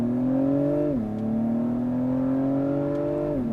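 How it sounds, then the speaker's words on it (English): A 2021 Acura TLX Type S accelerates with a steady, rising engine drone, and a quick gear shift near the start drops the pitch before it climbs again, with another shift at the end, heard from inside the car without talk. "that gear shift is crisp and clean"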